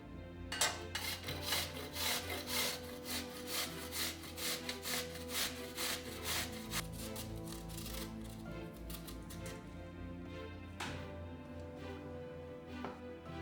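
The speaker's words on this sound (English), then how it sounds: "Let's wash and peel the zucchini. And grate it into a bigger bowl." Peeled zucchini is rubbed against a grater into a bowl, a quiet, rhythmic rasping scrape repeated in quick strokes throughout, close and steady.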